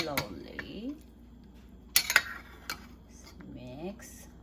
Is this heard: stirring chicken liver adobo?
yes